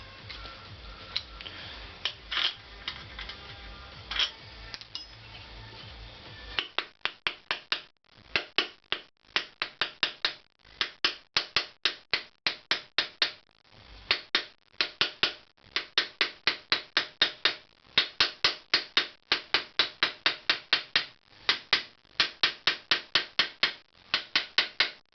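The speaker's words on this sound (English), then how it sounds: "Now I'm going to use a hammer." Hammer tapping a pressure plate down onto its bolts while restoring a CX500 engine part, with dozens of sharp, close metallic taps in quick irregular bursts after a few seconds of clattering handling noise.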